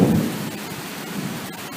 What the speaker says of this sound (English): Corn getting a good rain though, but it's flat out coming down